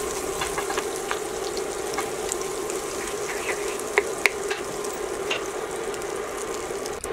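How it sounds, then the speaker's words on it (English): Oil and melting butter sizzle in a hot skillet with a steady, soft crackle and a few sharper pops, fairly quiet and continuous with no talking. "I'm going to pour in some oil and some butter. I'm going to let my butter melt and the oil heat up."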